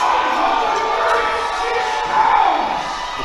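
Crowd at a USAPL powerlifting meet cheering and shouting steadily for a lifter attempting a 425 kg squat, a continuous roar that swells briefly near the end.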